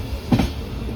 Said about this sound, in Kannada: ಪಾಂಡವಪುರದಿಂದ ನಮ್ಮ ಟ್ರೈನ್ ಮೂವ್ ಆಯಿತು